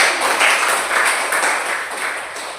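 A classroom of students applauds a presenting group, with a dense, even wash of hand clapping that holds steady throughout and softens slightly at the close.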